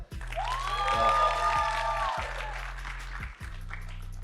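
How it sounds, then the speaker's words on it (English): Guests at a wedding reception applaud, with a burst of clapping and a whistle-like cheer rising over a low repeating music beat that fades toward the end. "can we get one more applause for Ekam?"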